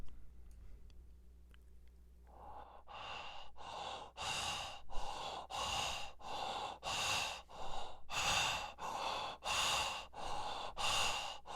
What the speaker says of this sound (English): the breathing sound that I recorded with my own breath